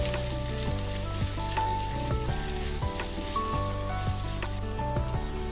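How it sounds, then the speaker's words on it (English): Sliced onion fries in oil with jeera and garam masala, a steady close sizzle with scattered pops and crackles and occasional stirring scrapes throughout. "Fry it well until the onion turns out a bit transparent."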